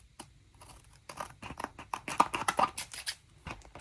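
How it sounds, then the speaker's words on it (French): Scissors snip through paper while cutting out bookmarks, a close, quiet run of crisp rhythmic cuts that speeds up into a dense cluster partway through, with no talking. "ASMR, ciseaux, découpage."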